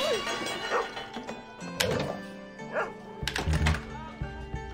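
In the video game Rollers Of The Realm, a dog gives a few short barks and whimpers, mixed with game sounds and a thunk.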